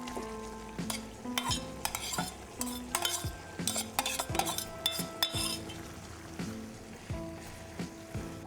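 A spoon scrapes and clanks against a pan as boiled basmati rice is stirred into capsicum biryani, with repeated metallic knocks over a soft sizzle, close and uneven in rhythm.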